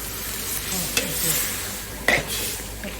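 Chicken and chili stir-fried in a pan give a steady, close sizzle with stirring scrapes and a couple of sharper spatula knocks, and no voices.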